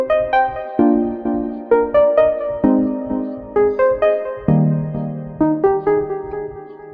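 Synth pattern 31 built in FL Studio 11 with the Midnight 1 TE preset: a repeating sequence of bright, plucky harmonic notes with a steady rhythmic pulse, clear and upfront, with no voices.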